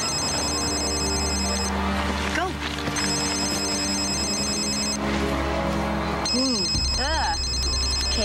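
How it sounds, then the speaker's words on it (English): A telephone rings in repeated bursts in a 2001 Sci-Fi Channel drama, clear and prominent with pauses between rings, while people talk over it and other sounds shift beneath. "Is that your phone?"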